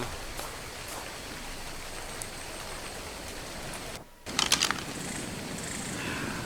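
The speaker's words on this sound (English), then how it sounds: "little cold from the rain." Steady rain hisses throughout a survival video game scene, broken by a brief near-silent gap and then a short clatter of louder drops before the even downpour resumes.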